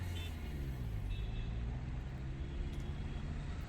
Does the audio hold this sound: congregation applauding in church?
no